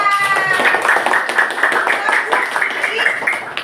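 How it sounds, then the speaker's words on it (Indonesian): Primary-school classroom of children clapping, a dense, steady patter of many hands close by, with a voice over the start. "Beri tepuk tangan."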